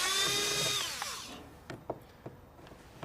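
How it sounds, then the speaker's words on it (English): A Snap-on rattle gun whines loudly for about a second while removing bolts during a Clearview towing mirror install on a Mazda BT-50, then spins down, followed by scattered light metallic clicks and taps. "If you've got one of these little rattle guns, they're fabulous. Made by Snap-on."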